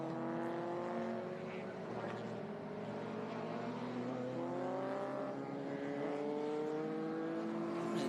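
Race cars lap Laguna Seca at the Rolex Monterey Motorsport Reunion, their engines a loud, sustained drone whose pitch rises and falls for the whole stretch as they pass and accelerate along the track.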